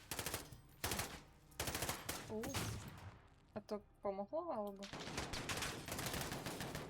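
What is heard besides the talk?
gunfire in video game Call of Duty Modern Warfare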